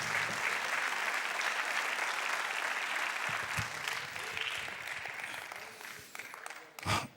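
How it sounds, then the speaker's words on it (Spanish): A congregation at a religious gathering claps in praise, a thick, continuous burst of applause that holds steady before thinning and trailing off into a few scattered claps near the end. "Denle un aplauso al Señor"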